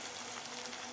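Garam masala and Kashmiri red chili powder frying in hot oil, a steady close sizzle with faint stirring, no voices.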